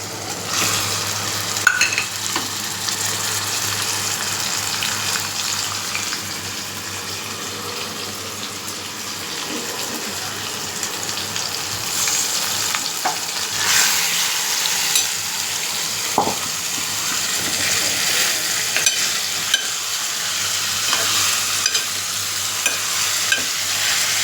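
Chicken fries with ginger garlic paste for a Chettinad chicken gravy, a dense, continuous sizzle close to the pan with occasional faint scrapes of stirring.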